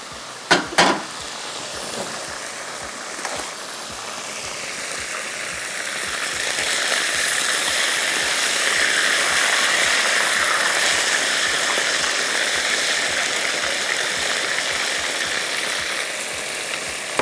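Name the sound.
frying beef in a pan for black pepper beef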